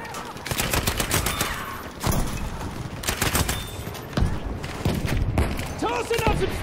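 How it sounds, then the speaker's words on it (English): An artillery barrage pounds the Al Marj Encampment in Battlefield 5, with dense overlapping gunfire and heavy blasts in a loud, continuous battle din, punctuated by sharper explosive hits every second or so. "Requesting an artillery barrage on this location."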